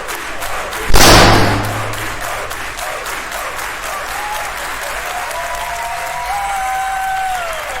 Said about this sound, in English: oh, there we go, yeah, standing ovation